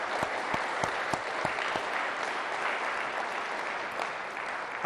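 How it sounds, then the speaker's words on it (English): An audience at a Philadelphia government event claps steadily in even, continuous applause at moderate loudness, with a few distinct nearby claps standing out early on. "Let's give the people who made this all happen from this institution a big round of applause as well."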